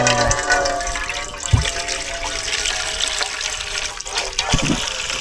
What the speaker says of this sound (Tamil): இப்போ பார்த்தீங்கன்னா தண்ணி ஊற்றிக்கிறோம் அதில் கொஞ்சமாக